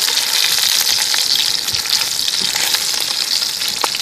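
A beef log sizzles and spits in a pan over a campfire, a loud, steady crackling hiss with occasional pops close by, no voices.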